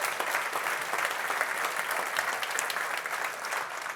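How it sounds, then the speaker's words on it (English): An audience at a city State of the City event applauds steadily and warmly, the dense clapping from many people filling the room for several seconds without pause. "Let's give him a round of applause."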